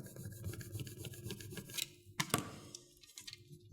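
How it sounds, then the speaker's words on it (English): Vinyl transfer being burnished down by hand, quick scratchy rubbing strokes in an irregular rhythm, close and fairly quiet, with a brief sharper scrape partway through. "Burnish it down."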